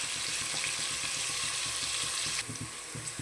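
Two medium-sized onions fry in a pan for a home-style rice bath, giving a steady close sizzle with light stirring and scraping, then dropping slightly softer near the end; no voices.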